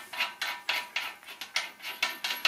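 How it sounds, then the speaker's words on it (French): Regular metallic clicks from tightening the nut on a Peugeot 307 SW 1.6 HDi rear brake, about ten sharp ratchet-like ticks in a steady rhythm, close and fairly quiet with no talk. "On resserre l'écrou."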